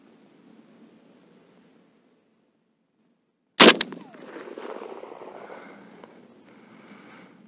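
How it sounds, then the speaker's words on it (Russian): A single sharp, loud rifle shot, fired at a paper target through an EOTech Vudu 1-6x24 scope, cracks after a quiet stretch and trails off into a rumbling echo and faint background noise. "Стреляю опять в эту точку."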